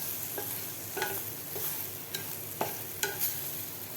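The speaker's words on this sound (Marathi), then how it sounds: "आणखीन 1 ते 2 मिनिट आपल्याला हे मिरच्या फ्राय करून घ्यायच्या आहेत." Masala green chillies frying in a pan, a steady soft sizzle with scattered crackles and sharp spatters recurring throughout, no voices.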